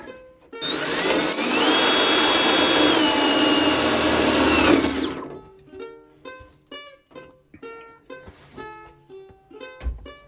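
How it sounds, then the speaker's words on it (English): A power drill whirs loudly and steadily for about four seconds, drilling a small lubrication hole in an Atwood 7920 RV furnace motor, then stops, followed by a few light tapping and clicking sounds. "I'm gonna try to drill a little hole right here."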